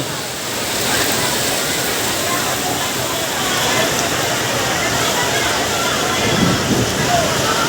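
Steady heavy rain pours at an elevated LRT station, a dense continuous hiss of falling water filling the scene at constant loudness, with a voice speaking faintly beneath it.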